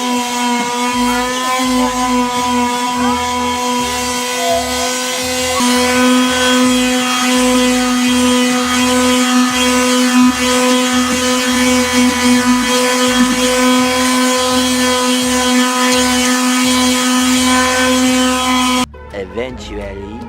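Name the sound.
power sander sanding wood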